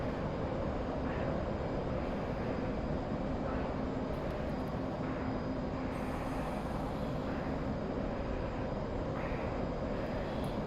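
Jet afterburners roar as a steady, dense, constant drone in the DCS World flight simulator during a Blue Angels solo sequence, with no variation in loudness.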